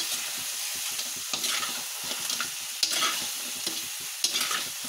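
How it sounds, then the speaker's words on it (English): Crab being stirred with melted butter in a hot pan, a continuous sizzle with repeated scraping strokes of a utensil at irregular intervals, close and clear. "now mix the crab with the melted butter"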